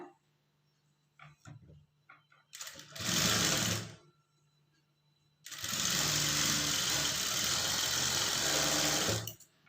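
A sewing machine stitches a folded blouse cloth band in two runs: a short whirring burst, then a longer steady stretch. Both are close and loud, with quiet gaps and faint handling sounds between them.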